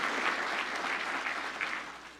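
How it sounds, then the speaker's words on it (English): An audience at a hospital's annual meeting breaks into applause, a full, even wash of many people clapping that tapers slightly toward the end. "please give those ladies a round of applause"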